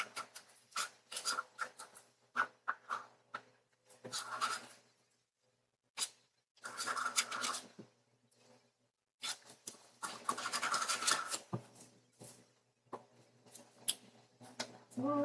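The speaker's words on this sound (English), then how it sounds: "Scrape." Resin is scraped out of a cup in short bursts of close, dry scratching strokes with brief pauses between them, quiet and alone.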